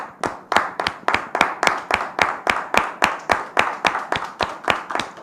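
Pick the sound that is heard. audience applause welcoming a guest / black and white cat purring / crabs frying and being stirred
audience applause welcoming a guest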